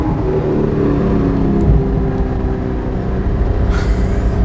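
Straight-piped Audi R8 V8 engine droning loud and steady from close by, a sustained deep rumble with a brief sharper lift near the end, no voices over it.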